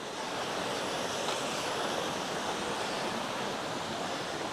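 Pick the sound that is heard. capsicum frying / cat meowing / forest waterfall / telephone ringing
forest waterfall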